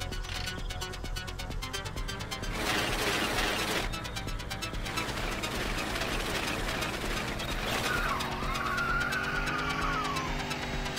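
A car engine idling in The Long Drive, a steady droning hum that runs throughout, close and constant, with a rising whine near the end.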